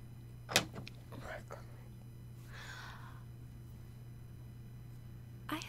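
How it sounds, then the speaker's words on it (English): An indoor door shuts with a sharp knock, followed by faint scraping and softer thuds. A louder bump comes near the end, all set against a steady low hum in a quiet room. "Close the door."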